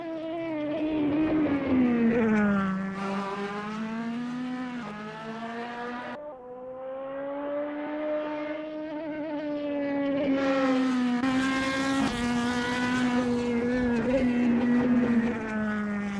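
LMDh hybrid prototype race cars lapping Road America in Assetto Corsa, a loud continuous engine whine rising and falling through gear changes, close and steady for the whole stretch with no talk.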